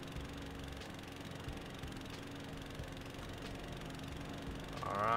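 In Farming Simulator 2017, a John Deere mower working a ditch edge gives off a constant idling engine drone with faint periodic ticks, and a brief higher whine rises at the very end.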